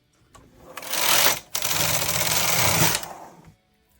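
Carriage of a Brother KH 260 chunky knitting machine with ribber sliding across the needle bed in two loud, close passes, a rough whirring rasp briefly broken by a clack at the turn, then stopping.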